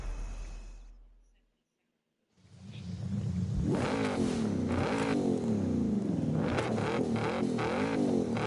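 An unmodded car's engine in the Forza racing game fades out into a brief silence, then comes back with repeated strong revs that rise and fall in pitch, close and loud.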